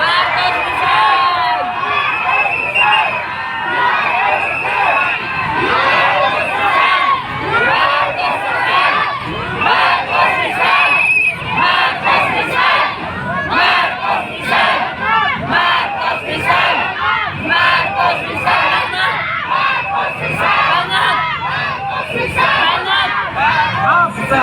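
A large outdoor political rally crowd at Liwasang Bonifacio shouts and chants in loud, rhythmic bursts, many voices overlapping continuously with cheering and babble throughout.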